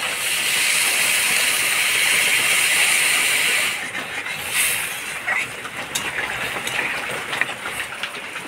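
Water poured into a hot pan of frying egg and potato bhujia sets off a loud, steady sizzling hiss that lasts a few seconds, then drops to a softer crackle.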